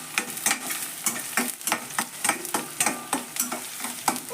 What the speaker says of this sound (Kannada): ಉಳ್ಳಾಗಡ್ಡೆ ಎಲ್ಲ ಫ್ರೈ ಆಗಲಿ ರೀ